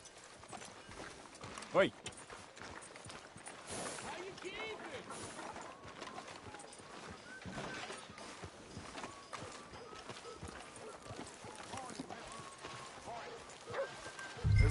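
Horse hooves clip-clopping at a steady pace in the video game Red Dead Redemption 2, heard beneath continuous character dialogue and game ambience.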